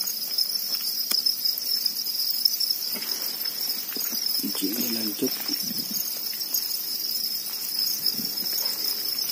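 Thai crickets in a breeding enclosure keep up a steady, high continuous chirping drone, with faint rustling and a brief murmur of speech midway.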